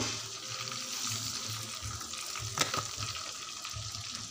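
Water poured into a pot, a steady splashing gush with a faint sizzle underneath, close and fairly quiet.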